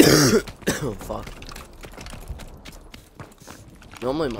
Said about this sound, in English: This is a fucking cough.